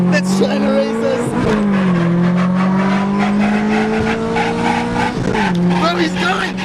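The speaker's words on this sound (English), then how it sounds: "Alright, so there's this Mazda 6 that's trying to race us." A street race against a Mazda 6 brings loud engine revving and screeching tires, the car's pitch rising and falling with shifts and a sudden skid, while people talk over it.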